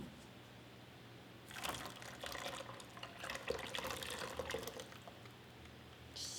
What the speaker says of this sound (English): now I'm going to pour in my lye water solution